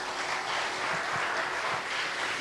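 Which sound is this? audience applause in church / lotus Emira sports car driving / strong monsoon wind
audience applause in church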